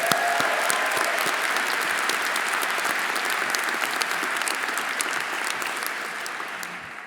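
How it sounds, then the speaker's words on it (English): Loud, sustained audience applause fills a business school MBA commencement ceremony as faculty and staff are honored, a dense continuous clapping that fades slightly toward the end. "let's give a round of applause to all of the faculty and staff who are in the audience with us today."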